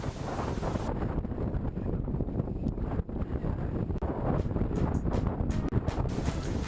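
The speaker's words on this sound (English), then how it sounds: "the wind was getting a little too rough" Strong wind buffets the microphone while kayak fishing, a loud, continuous roar with gusty rumbling surges and some water noise, no voices.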